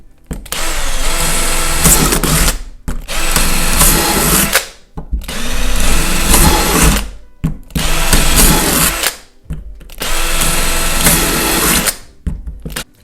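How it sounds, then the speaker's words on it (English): A power drill runs in four long bursts, each a few seconds, with short pauses between, loud and close, as holes are bored into a surfboard deck. "So just take the drill"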